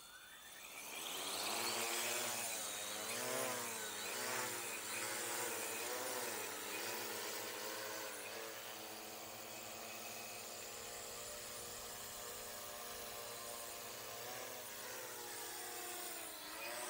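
Drone propellers spin up on arming and take-off with a whirring buzz that climbs and wavers in pitch, then settles into a steady, fairly close hovering drone.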